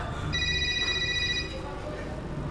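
A telephone rings at night in a stage play, a short electronic trill lasting about a second, heard under room noise with people present around it.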